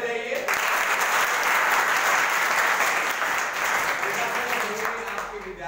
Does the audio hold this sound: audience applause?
yes